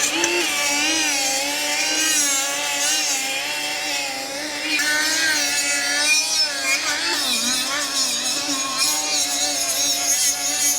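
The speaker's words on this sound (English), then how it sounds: "Gonna go ahead and machine it real quick." A brake rotor for a Ford Galaxie being machined on a brake lathe: a steady, continuous whine with a warbling metallic ring, loud and close for the whole stretch, with no talking.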